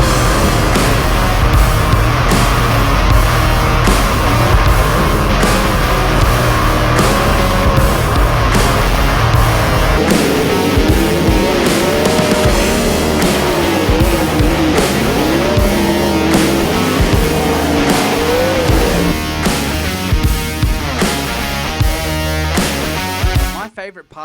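Sprint car engine roaring at full throttle from onboard, loud and relentless, its pitch rising and falling through laps with a tire squeal here and there, and a voice talking over it for part of the run.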